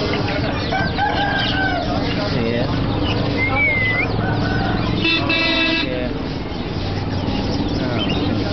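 Chickens clucking and a rooster crowing, loud and close in a busy aviary, with other bird calls and a brief honking-like burst mixed in over a constant background noise.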